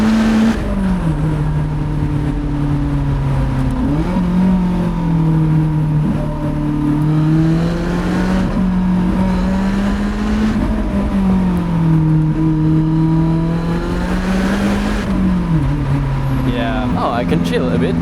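A Lotus Elise sports car engine drones steadily while driving, its pitch rising and falling with throttle and gear changes through an unbroken, close, loud run with no pauses.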